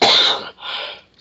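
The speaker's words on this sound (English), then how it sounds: "I got a cough." An adult with a cold gives two close, loud coughs in quick succession, the first harsh and longer, the second a shorter rasp, with no talk between them.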